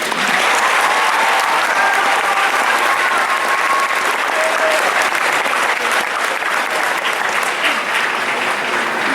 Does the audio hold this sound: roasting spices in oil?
no